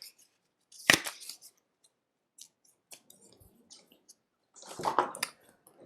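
A deck of flower cards being shuffled, with brief papery riffles and flicks in two main bursts separated by near-silence and a few small taps.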